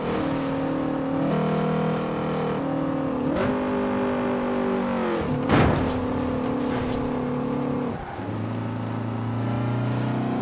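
A Honda Civic '97 with a VTEC engine in the racing game Forza Horizon 4, its engine droning and revving steadily, pitch climbing and dropping through gear changes, loud and continuous with no talking.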